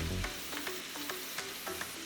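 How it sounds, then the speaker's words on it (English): Ground beef sautéing in a pan at home, a steady soft sizzle with repeated short scraping stirs at an even pace, close and fairly quiet, with no talking. "So saute your ground beef."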